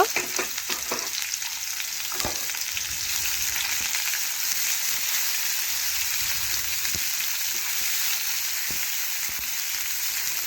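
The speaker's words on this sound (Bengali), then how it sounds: "একটা পেঁয়াজ কুচি করে রেখেছিলাম সেটা দিয়ে দিলাম পেঁয়াজও একটু লাল লাল করে ভেজে নেব" Chopped onion frying in oil in a pan until reddish, for a simple masoor dal: a steady, close sizzle with a few sharp crackles and stirring clatters early on, with no talk.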